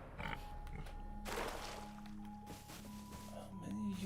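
Pigs grunting and oinking in the survival video game Rust Console Edition, irregular snorts close by over game ambience, with a voice talking over part of it.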